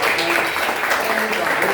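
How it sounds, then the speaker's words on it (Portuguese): Audience applause at a Rosh Hashanah celebration, a dense, even wash of clapping that holds steady throughout, fairly loud, with voices mixed in underneath. "Vamos aplaudir o pessoal"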